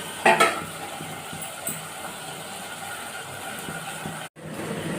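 Mutton liver sizzles gently while being stirred in a pan, with soft scraping strokes. An early clattering clank of utensil on metal stands out, and a brief silence comes near the end.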